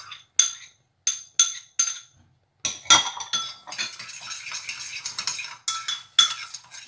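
A spoon clinks against a bowl while stirring sugar into cucumber pickle liquid with green chilies and shallots, with sharp, close metallic taps in short bursts, then more continuous scraping and clinking.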